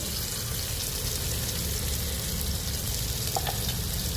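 Drumstick pieces frying with salt in an onion, tomato, cumin and curry-leaf tempering, a continuous close sizzle and hiss with a couple of soft stirring knocks near the end.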